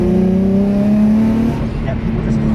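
An Infiniti G35 holds a steady engine drone as it laps a race track, a near and fairly loud tone that dips slightly partway through, with talk faintly in the background.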